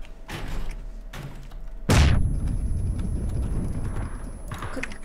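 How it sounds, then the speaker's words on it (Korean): A grenade explodes in PUBG: Battlegrounds: a sudden loud blast about two seconds in, followed by a low rumbling decay. Softer game noise comes before it. "어 수류탄."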